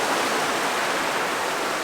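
Colorado creek water rushes steadily, a continuous close hiss of flowing stream water with no other sounds.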